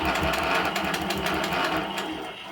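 A long arm quilting machine stitching in the ditch between pieced seams, guided along a small ruler, a steady close rapid needle chatter with a motor hum that eases slightly toward the end.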